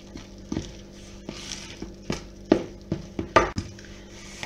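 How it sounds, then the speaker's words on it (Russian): Knife chopping kumquat finely on a board for cake batter, a run of about a dozen sharp, separate knocks at an uneven pace, close and clear with no talk. "вот кумкват у меня осталось тут совсем немножечко, мелко порезать и в тесто добавляем"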